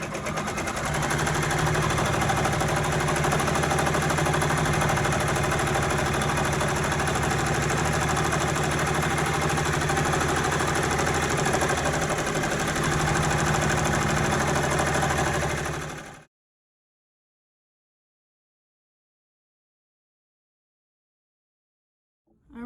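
An embroidery machine sews an appliqué placement stitch on a sweatshirt, a steady fast mechanical hum and needle chatter running continuously for about sixteen seconds before stopping abruptly into silence.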